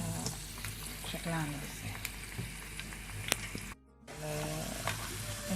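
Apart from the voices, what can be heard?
pastry frying in oil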